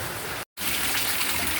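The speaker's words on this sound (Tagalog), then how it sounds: "Malakas pa rin ang ulan." Heavy rain pours steadily and loudly outdoors by a hut during a windy storm, a dense broadband hiss with one very brief dropout early on.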